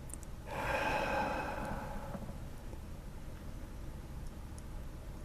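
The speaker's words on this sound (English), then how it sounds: "One last breath." A single deep breath during a calm pre-practice exercise, one long airy inhale that swells and fades over about two seconds, close and soft with quiet background after.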